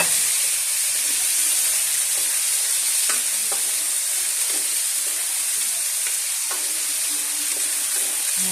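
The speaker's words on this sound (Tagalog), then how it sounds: "ipiprito po muna natin saglit yung ating patatas mga kaguro" Potatoes fry in hot cooking oil with a steady, close sizzle and hiss, broken by a few soft clicks and knocks as they are stirred, with no voices.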